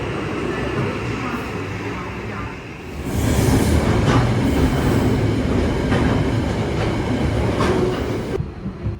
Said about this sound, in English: We finally got on a train.